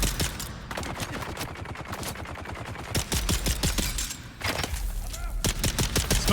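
Rapid gunfire from snipers in the video game Dune: Awakening, a dense burst of sharp shots in quick succession, a pause, then another loud volley, close and punchy with game sounds underneath.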